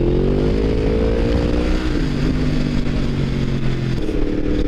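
A Yamaha MT-10 motorcycle engine accelerating hard, a loud close roar rising in pitch through a gear change and pulling on, heard alone.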